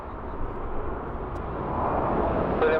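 A fixed-wing airliner taking off or landing at Gimpo Airport gives a broad engine roar that slowly swells louder over a few seconds, with no talk.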